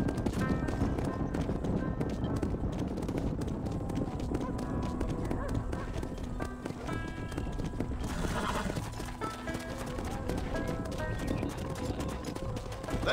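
Horses gallop in Red Dead Redemption on PS5, their hooves clip-clopping fast and continuously inside a loud, dense game mix with music and other sounds.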